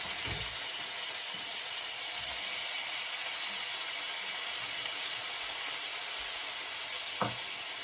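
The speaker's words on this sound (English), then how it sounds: "So to my pot, I'm going to stir fry some bulgur in here quickly." Fine-grained bulgur being stir-fried in a pot, giving a steady, loud, broadband sizzle and hiss throughout with a few scraping knocks from stirring, no talking.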